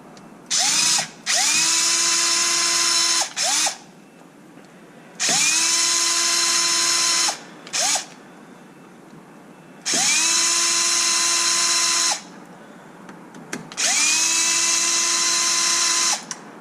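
Power drill spinning bolts out of a Kraton 8S RC truck, in four separate bursts of steady high whine with rising spin-up and trailing spin-down, each roughly two seconds long, with short blips between.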